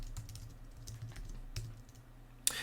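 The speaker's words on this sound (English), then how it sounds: "I'm going to type out examples." Fingers tapping on a computer keyboard, quick irregular clicks in a close, quiet room, ending with one sharper keystroke.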